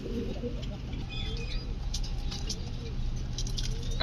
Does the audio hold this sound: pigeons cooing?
yes